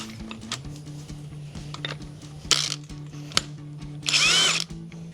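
Tightening a strut nut with a 22 mm tool on a 2005-2014 Mustang strut mount: two brief whirring bursts over low workshop hum and scattered clinks, close and fairly quiet, with no talking.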